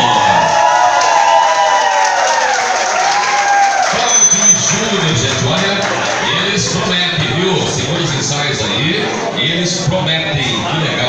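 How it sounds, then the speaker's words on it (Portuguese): An audience at a song festival applauds and cheers loudly and continuously for about eleven seconds, a dense crowd clapping filling the space with a host's voice over it. "Uma salva de palmas para Cláudio e Júnior."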